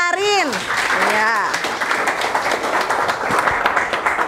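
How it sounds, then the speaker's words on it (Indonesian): A classroom of students applauding a classmate during a mathematics lesson, a continuous wash of clapping that starts under a sliding vocal sound and carries on steadily. "Tepuk tangan dulu buat Arin"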